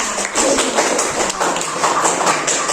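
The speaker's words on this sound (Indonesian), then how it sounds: "Tepuk tangan buat kita semua." Clapping from a classroom or seminar audience, a dense steady patter of many hands lasting a few seconds, fairly close and loud.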